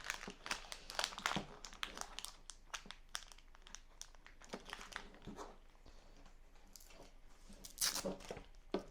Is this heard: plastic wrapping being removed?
yes